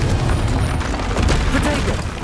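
A Confringo spell explosion in Hogwarts Legacy, a dense continuous roaring boom with crackling bursts that stays loud throughout, mixed with busy combat noise.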